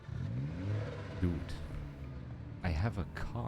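A car engine in the video game Project Zomboid, the vehicle nearly out of fuel, hums and revs at a moderate level in a steady rising and falling drone.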